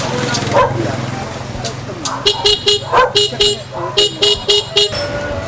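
A car horn honks in a rapid run of short, bright toots, about a dozen in a few seconds, over a noisy outdoor background with faint voices.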